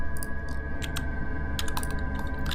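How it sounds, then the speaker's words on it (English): Quick, uneven clicks of typing on a computer keyboard, a few keystrokes at a time, near and fairly quiet over a steady electronic hum and game background noise. "Why am I typing it there?"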